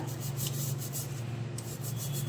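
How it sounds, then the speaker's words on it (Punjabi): A brush scrubs tea strainers soaked in vinegar, producing a continuous close rubbing and scraping with faint repeated bristle strokes, steady and unaccompanied by talk. "ਇਸ ਤਰੀਕੇ ਨਾਲ ਹੁਣ ਆਪਾਂ ਇਹਨਾਂ ਨੂੰ ਰਗੜ ਲਾਂਗੇ"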